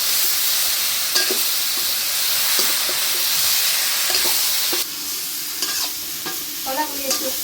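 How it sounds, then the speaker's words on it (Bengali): Green plantains and shrimp fry in a pan under a constant loud sizzle and hiss, with a spoon scraping and knocking through them in irregular strokes that grow more frequent toward the end. "এখন কাঁচকলাগুলি একটু নেড়ে চেড়ে নেব।"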